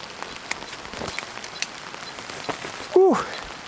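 Rain falling on a popup tent while car camping, a faint scattered patter of drops with occasional sharper taps, followed by a brief vocal exhale near the end.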